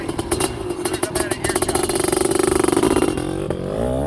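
Honda CR500R motorcycle with an 89 CR500 two-stroke motor bored out to 512cc, a loud close rapid-firing rasp of revs that builds and holds before fading as it passes.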